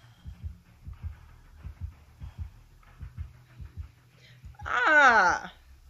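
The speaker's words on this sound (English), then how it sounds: "Someone with a heartbeat." Killer's heartbeat warning in Dead by Daylight: a deep, steady double-thump pulse repeating about twice a second, with a brief loud growling creature cry near the end.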